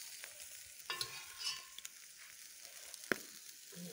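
River crayfish fry on a homemade barbecue with a faint, crackling sizzle and scattered sharp pops, heard alone and fairly quiet.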